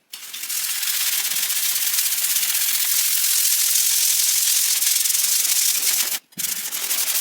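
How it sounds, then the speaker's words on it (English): Sanding drywall mud patches in a bathroom, a loud continuous abrasive scratching rub held steadily for several seconds, broken by one brief pause before resuming. "I'm going to go ahead and sand these patches"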